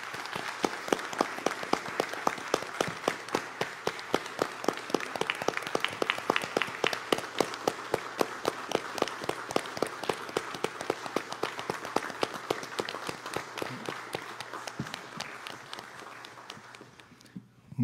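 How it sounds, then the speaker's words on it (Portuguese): An audience at a formal commemorative session for Israel's 77th anniversary gives sustained warm applause for survivors, dense steady clapping from a sizable crowd in a hall for nearly eighteen seconds, thinning slightly before it stops. "a quem eu peço uma salva e calorosa de palmas"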